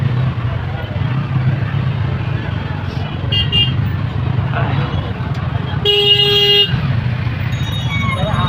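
Heavy road traffic in a jam with cars and bikes: a constant loud engine rumble and roadway noise, with a long, loud horn blast near the end and a shorter toot just before it. People talk over the traffic.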